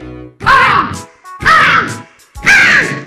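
A voice imitates a crow, giving three loud, harsh, drawn-out caws evenly spaced about a second apart, close and alone.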